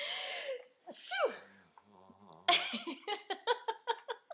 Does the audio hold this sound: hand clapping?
no